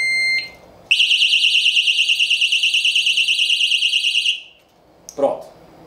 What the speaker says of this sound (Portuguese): O alarme ele vai disparar durante 10 segundos ininterruptos